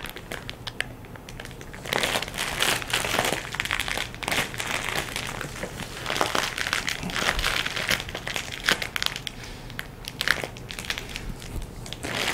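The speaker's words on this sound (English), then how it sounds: "You can hear it releasing the air." A rolled-up plastic space saver vacuum bag pushes out its air. A steady airy rush blends with crinkling, crunching plastic, close by and continuous throughout, with no talking.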